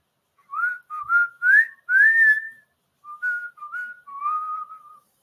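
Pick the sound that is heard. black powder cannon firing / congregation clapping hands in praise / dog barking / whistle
whistle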